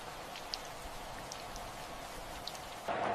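Rain falls in a steady, soft hiss with a few faint drops ticking, in a cartoon scene, quiet and continuous with a brief louder patch at the end.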